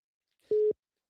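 A single short telephone busy-signal beep after a radio call-in caller hangs up, a clean steady electronic tone lasting about a fifth of a second, clear and isolated.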